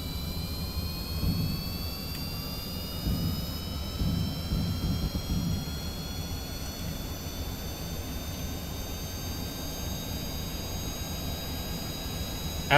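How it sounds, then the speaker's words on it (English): Jet engines on a craft in the video game Kerbal Space Program roar steadily with a rising whine as they spool up, a continuous moderate drone alone without speech. "Let's turn the jet engines on."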